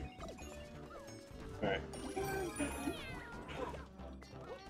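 A meow sound effect for the cat suit in the video game Super Mario 3D World, heard amid game music and effects with people talking over it.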